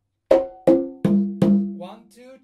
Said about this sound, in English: So it's gonna be slap, open, open, open.